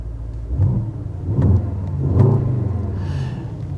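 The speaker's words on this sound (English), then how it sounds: "I don't know how well you can hear it, but here is the exhaust." The exhaust of a 2025 Mercedes-AMG GLE 63 S Coupe rumbles at a deep idle, with three short revs swelling and falling back. The sound is moderately loud and heard from a little distance.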